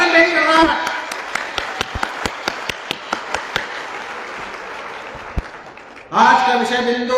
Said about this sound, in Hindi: तालियों की गगनभेदी गड़गड़ाहट से जोरदार अभिवादन करें